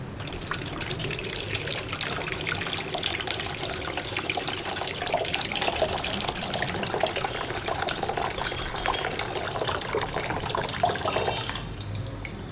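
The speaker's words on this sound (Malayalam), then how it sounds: "വെള്ളം ഒഴിക്കാം." Water runs steadily into a saucepan at home, a continuous splashing trickle heard close and moderately quiet for the whole stretch, easing off at the very end.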